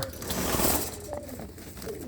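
Caged pigeons coo softly in a loft in the Anandpur Sahib area of Punjab, a faint low burble under rustling background noise, with a couple of brief calls near the middle.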